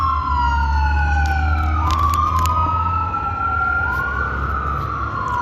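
A wailing emergency siren in the street, loud and close, sweeping slowly up and down in pitch over the deep rumble of a heavy vehicle engine.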